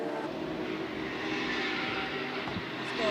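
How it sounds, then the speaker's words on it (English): A deep, steady Corvette V8 race car engine roar at the Dubai 24 Hour race fills the clip at a constant loud level, swelling slightly at the end, with no voices. "That thumping big Corvette engine."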